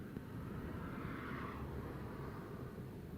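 An airplane going around at Newcastle International Airport, climbing with engine power in gusty wind, gives a steady, broad roar that stays loud and even throughout, with no talk.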